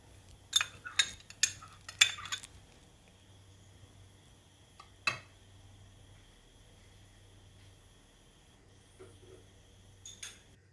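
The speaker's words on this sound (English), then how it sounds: "And then I'm mixing everything all together." Radish and broccoli slaw is tossed with mayonnaise in a bowl, giving a quick cluster of clinks and scrapes at the start, one more knock near the middle and a few faint taps at the end, in a quiet room.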